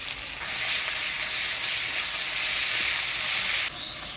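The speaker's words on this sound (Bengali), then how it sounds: "সব মশলাপাতি দিয়ে ফোড়নের তেলে নাড়াচাড়া করে নিলাম" Chopped onion with pastes of ginger, coriander-cumin, onion, garlic and dried red chilli sizzles loudly in hot tempering oil while being stirred, a steady bright frying hiss lasting about three seconds.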